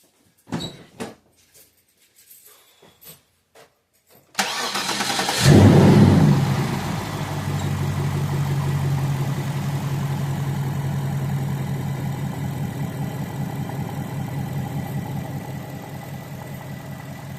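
A few faint clicks and knocks, then a Cadillac STS 4.6 V8 Northstar engine cranks and catches with a brief rev before settling into a steady, loud idle.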